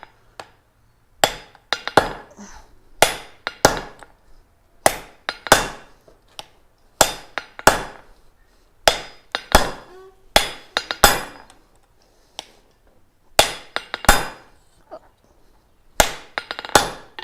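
Hammer blows on hot steel being drawn into a taper at a gas forge ring out in repeated bursts, sharp metallic strikes in quick clusters separated by short pauses, close and loud with no talking.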